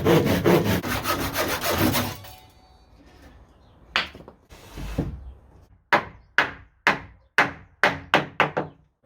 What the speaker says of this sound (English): Now it's time to start laying these planks.